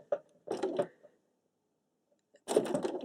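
A sewing machine working a satin stitch on tulip appliqué runs in two short bursts, with a quiet pause between them, close by and fairly soft.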